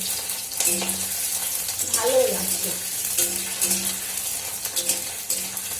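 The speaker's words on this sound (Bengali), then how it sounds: "মাঝে মাঝে এই পনিরটা ভাজা ভাজা বেশ হয়ে যাচ্ছে" Paneer cheese frying and browning in a pan makes a lively, continuous sizzle and crackle with occasional stirring, while someone speaks briefly over it.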